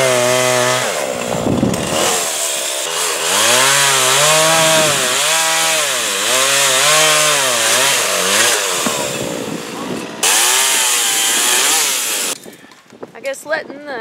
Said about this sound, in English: I guess letting the chainsaw set through the winter did it some good because it's been running them good.